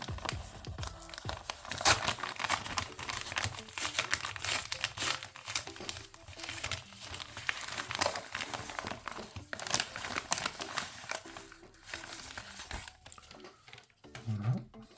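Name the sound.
unboxing a parcel of Pokémon cards, crinkling packaging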